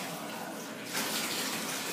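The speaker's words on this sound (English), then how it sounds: "So you fill your glass. Water and you pour it on the dog." Water poured from a glass over a dog during a bath, a steady close splashing gush that swells louder partway through, with a faint voice in the background.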